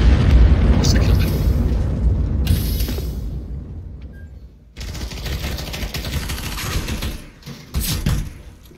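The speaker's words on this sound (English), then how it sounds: "missiles are incoming" Incoming missile strikes in CS:GO Danger Zone: heavy booming explosions roll in over a steady rumble, with bursts of mechanical clatter and a late sharp blast, voices faintly present.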